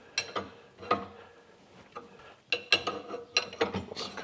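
A bolt being tightened on a VW Golf mk2 steering column to press the collar down, heard as close, sharp ratcheting clicks in short bursts with brief pauses between them.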